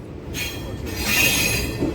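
A DEMU train pulls into Kurnool City station, its broadband rumble swelling with a bright, sustained high-pitched wheel squeal as the carriages roll in, loud and close.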